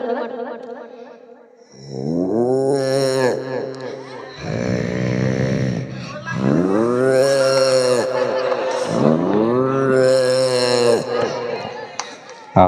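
A voice mimics a calf's bleating with a few drawn-out, wavering moo-like calls, loud and close, following a brief softer vocal at the start.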